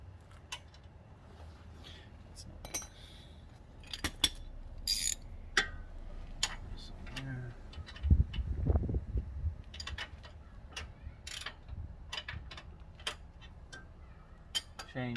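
A wrench ratchets in quick bursts of sharp clicks while tightening a bolt on a Synergy front track bar, close and fairly quiet, with a short louder clunking patch in the middle.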